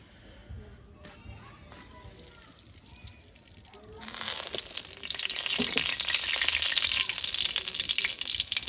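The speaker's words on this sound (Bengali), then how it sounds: "কড়াই গরম হয়ে গেছে সর্ষের তেল দিয়ে দিব" Mustard oil hits a hot wok midway with a sudden loud sizzle that keeps crackling and hissing steadily to the end, preceded by quieter kitchen handling sounds and a voice talking.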